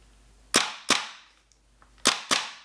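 WE Apache MP5A2 gas blowback airsoft rifle dry firing on semi-auto from an empty magazine: four sharp, loud clacking shots close by, in two pairs with a pause between, no talk.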